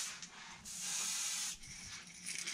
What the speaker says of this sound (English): make sure we can spray a little bit here